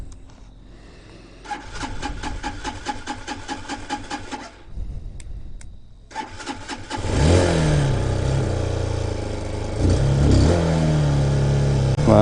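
A Brozz 250 Chinese motorcycle engine starts with stuttering bursts, stalls briefly, then catches and settles into a loud, steady high idle after carburetor rejetting.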